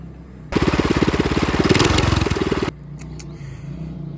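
Small mini bike engine running rough shortly before it failed, a loud rapid buzzing putter that starts suddenly, holds for about two seconds, then cuts off, leaving a quieter background with a few faint clicks.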